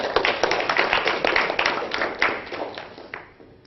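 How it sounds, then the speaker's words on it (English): Audience applause for a speaker at an evening talk on science and spirituality, a dense burst of many hands clapping that fades out over a few seconds, heard alone without talk. "so if we can give him a round of applause"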